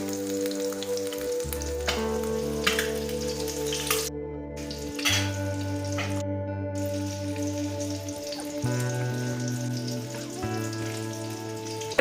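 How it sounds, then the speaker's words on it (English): Eggs cracked into a hot pan and stirred to scramble, sizzling steadily with a crackling frying hiss, close and continuous, with music playing throughout. "crack the eggs. Directly into the pan and stir quickly to scramble them"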